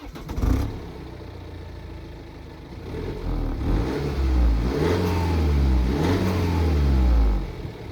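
A car engine revs up from inside the cabin, a low droning note rising in pitch through two accelerations, fairly loud and steady.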